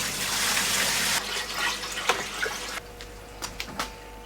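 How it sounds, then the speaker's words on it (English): Tap water gushes into a shrimp aquarium tank, loud and steady at first, then softer filling and gurgling with a few splashes near the end. "So we're going to fill up this tank and tomorrow we can drain it and put some plants in."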